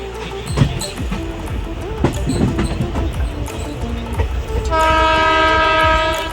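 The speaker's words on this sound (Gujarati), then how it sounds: "અત્યારે આપણી ટ્રેન ધોળા જંકશન પહોંચવા આવી રહી છે." A train arriving at Dhola Junction rumbles and clatters loudly nearby, then sounds a long, sustained horn blast that carries to the end.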